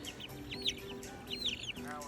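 Young backyard chickens raised for an organic flock make soft clucks and chirps close by, short repeated calls over a low background hum.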